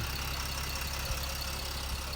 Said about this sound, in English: Mercedes OM 642, 3 litre turbo diesel. Dirty old diesel.